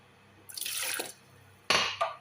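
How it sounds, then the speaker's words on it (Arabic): Water poured from a container into a bowl of mashed fava beans in a home kitchen, two short splashy pours with a pause between, close and fairly loud. "هحط مية"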